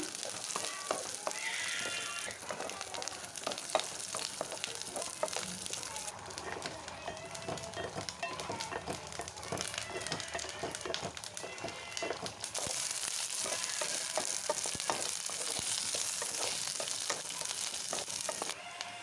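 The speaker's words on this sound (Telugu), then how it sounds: "పచ్చి కొబ్బరి జీడిపప్పును కొంచెం నెయ్యి వేసి అందులో వేయించుకోవాలి" Fresh coconut and cashews fry in ghee for payasam, making a soft, steady sizzle with crackles and stirring while a person talks over it.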